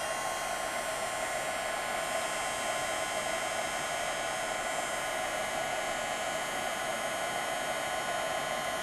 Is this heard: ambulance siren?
no